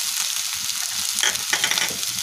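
Snake gourd and tomato pieces fry in a pan with a little garlic, giving a steady close sizzle with brief louder crackling bursts partway through, no voices.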